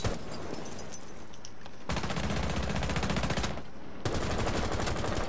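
Automatic gunfire in Rainbow Six Siege, close rapid bursts of shots, two long sustained strings separated by a short break.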